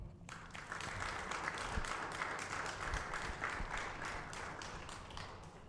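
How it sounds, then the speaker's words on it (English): An audience claps to welcome a speaker at a Catholic talk, steady dense applause from many hands that stays even for several seconds, somewhat distant and moderately soft. "give a big round of applause and welcome Matthew Moore"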